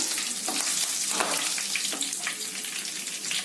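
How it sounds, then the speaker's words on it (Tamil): Curry leaves and dried red chillies frying in hot oil, a dense loud continuous crackling hiss close up with small pops throughout, no voice. "இதோட கொஞ்சமா கருவேப்பிலை சேர்த்துக்கலாம். இது நல்லா கொஞ்சம் பொரியட்டும்."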